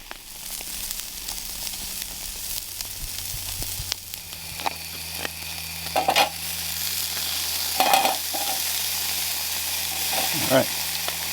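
A steak sizzles over a campfire in the wilderness, a steady close frying hiss with occasional crackles and pops, alone without voices.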